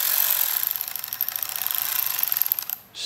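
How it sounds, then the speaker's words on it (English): T25 bolts are tightened on Harley-Davidson handlebar controls, a close, steady rapid ratcheting rattle that continues for about three seconds before stopping abruptly. "We're gonna button up our T25 bolts."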